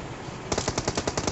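Rapid automatic gunfire in a video game, a burst of about eight evenly spaced shots fired in quick succession, loud and close, following a stretch of quieter background noise.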